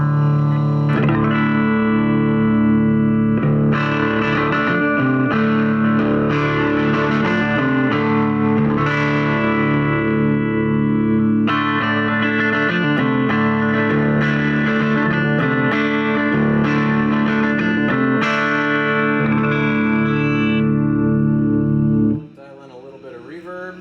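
An electric guitar runs through channel 1 of a Sound X305R amplifier, giving a loud, distorted, effects-laden tone. Sustained chords and riffs ring out in phrases, then cut off abruptly near the end.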